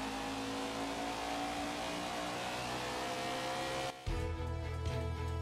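A NASCAR stock car engine in NASCAR 21: Ignition holds a loud, steady drone with rising harmonics, then cuts briefly before roaring back under throttle.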